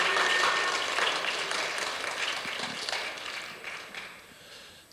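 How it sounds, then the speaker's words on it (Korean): A church congregation applauds at a Friday worship service, a steady wash of clapping that gradually tapers off. "박수 한번 해주시기 바랍니다."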